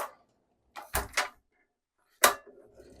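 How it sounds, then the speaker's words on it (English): A sliding pocket door in the half bath of a 2022 Entegra Coach Anthem 44R motorhome rumbles along its track in a few short close bursts, followed by a single louder thud and a faint rustle. "Another slide out door for the half bath is in the back."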